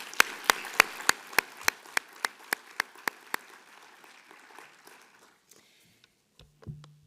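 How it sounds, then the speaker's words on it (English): Conference audience at a closing session of a lung health conference claps in a quick, even rhythm of sharp close claps that fade into scattered light clapping and near silence, followed by a brief low thump. "I think really deserves a round of applause"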